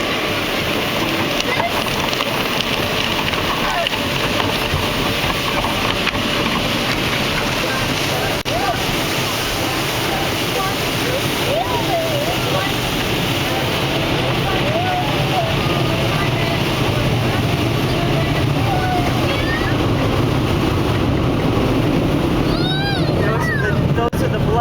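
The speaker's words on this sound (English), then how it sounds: "Here come the brushes." Car wash brushes running, a loud continuous whooshing, splashing roar of spinning brushes and spraying water heard from inside a car, with faint voices now and then.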